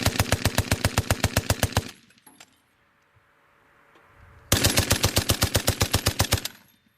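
Heavy machine gun firing two sustained bursts during a traversing demonstration, each a loud, rapid, evenly spaced string of close shots, separated by a few seconds of quiet with faint mechanical handling.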